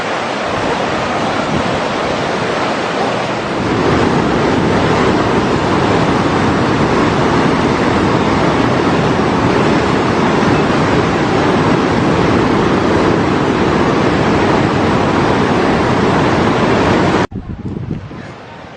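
Floodwater from a river risen during Tropical Storm Vinta in Cagayan de Oro, Philippines, roars as a loud, steady broadband rush that continues almost unbroken before cutting off abruptly near the end.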